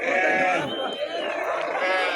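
At a sheep and goat market, several sheep and lambs bleat close by, overlapping wavering calls that continue for the whole moment.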